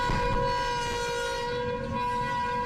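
A Mexican freight train, known as the Beast, rumbles past at a steady level with a sustained horn tone ringing over the clatter of the wagons.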